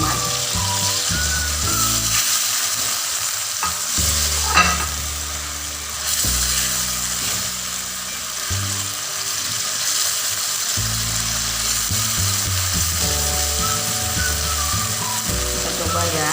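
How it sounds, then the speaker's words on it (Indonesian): Tomatoes are stirred into oyster mushrooms frying in a pan, with a steady sizzle and occasional scraping and clattering of a utensil running throughout. "Terakhir kita masukkan tomat."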